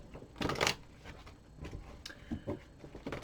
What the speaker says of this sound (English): I didn't shuffle for a planetary card, so I'll do that.